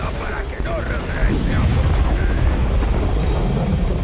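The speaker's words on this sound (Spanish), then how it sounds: "Jodida explosión mía." A loud blast and rumbling boom from an explosion in the video game Borderlands 2, sustained and dense with low-end roar across the whole stretch, with no talking.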